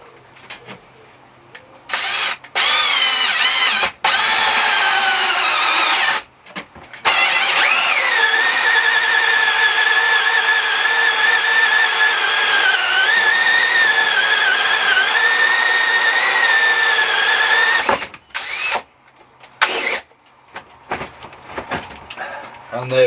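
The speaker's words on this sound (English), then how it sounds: "What I'm using is a 52mm hole cutter." Power drill fitted with a 52mm hole cutter boring through the side of a plastic pond skimmer, a sustained high whine lasting over ten seconds with brief start-stop bursts before and after, fairly loud and close.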